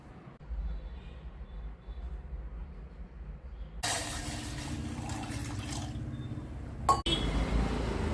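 Clinking glass while water is fetched to drink in a home, a few light taps and a sharp clink near the end over steady room noise and a low hum.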